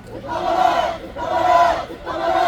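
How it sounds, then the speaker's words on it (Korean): Protesters outside the Seoul Western District Court chant slogans in unison at a press conference demanding students' release, with three loud, rhythmic swells of massed voices, each rising and falling in about a second. "대학생들 힘주기 위해서 저희가 구호 함성을 치고 있는데"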